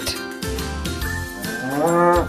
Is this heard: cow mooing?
yes